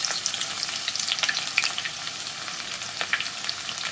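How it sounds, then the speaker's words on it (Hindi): Finely chopped onion sizzles loudly in hot oil, a dense close crackle with scattered sharper pops and a few stirring scrapes throughout, no voices. "अब हम इसके अंदर फाइनली चॉप अनियन डालेंगे।"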